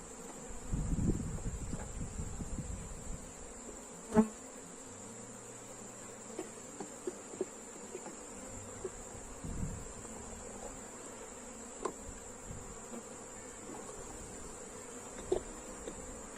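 Honey bees buzz in a soft, continuous drone around a hive box with syrup-fed frames, with occasional faint knocks and rustles nearby and no voices.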